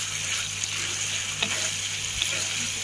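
A spoon stirs jaggery through pulihora tamarind rice in a hot pan, a steady low sizzle with soft scraping and occasional light clinks, continuous and close, with no talk.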